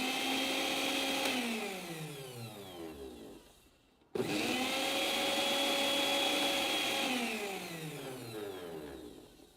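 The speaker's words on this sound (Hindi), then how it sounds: "जैसे ही तार हमने कनेक्ट करी और ये मिक्सी अपना नॉर्मल काम करने लगी" A repaired juicer mixer grinder runs loud and close with a steady whirring motor whine, slows briefly and nearly stops around the middle, then starts straight back up and keeps running, with no talk.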